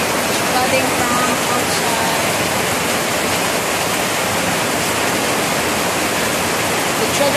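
Heavy rain pours down outside during flooding, a steady, loud broadband wash that continues unbroken throughout.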